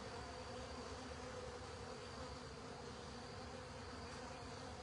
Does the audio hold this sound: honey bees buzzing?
yes